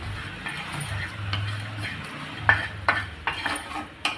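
Chillies roasting in a pan for a spicy dried Bombay duck thecha, with a low steady sizzle and several metallic clinks of a stirring utensil against the pan, close and without talk.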